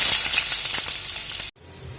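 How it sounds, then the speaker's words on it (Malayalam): Chopped onions, ginger and garlic sauté in hot oil with a bright, loud sizzle that cuts off abruptly partway through, then returns more quietly. "ഇതിൽ നിന്നെല്ലാം കൂടെ നമുക്കൊന്ന് നന്നായിട്ട് വഴറ്റിയെടുക്കാം"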